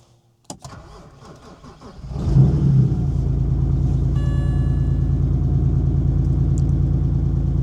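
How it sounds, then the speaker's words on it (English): A BMW drift training car cranks and catches, then settles into a loud, steady, close-up running note with an uneven, rough pulse from a misfire, no talk over it. "So I'm going to show you the car running."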